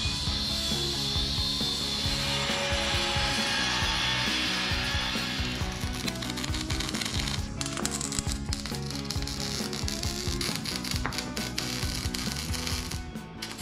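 Old metal skid plate being cut off an overlanding vehicle, a continuous loud grinding, rasping cut that runs steadily throughout with dense scraping texture and small rattles.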